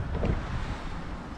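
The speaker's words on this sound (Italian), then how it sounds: "se cessasse anche questo vento" Gusty wind on the Spoleto–Norcia cycle path buffets the microphone in a continuous low roar, strongest in a brief surge near the start, then settling into a steady rush.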